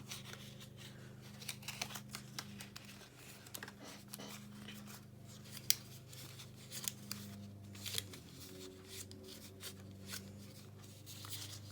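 Paper being folded into accordion pleats for paper clip rosettes, heard as soft crinkles, taps and pressing rustles, close and quiet over a low steady hum.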